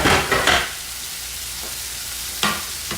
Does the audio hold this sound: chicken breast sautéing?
yes